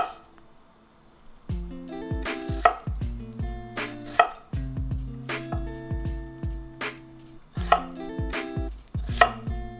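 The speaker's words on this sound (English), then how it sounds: "Cut half a potato into 1 inch." A knife chops half a potato into pieces on a cutting board for soybean paste stew, with quick bursts of crisp, close taps separated by short pauses and a tonal backing behind them.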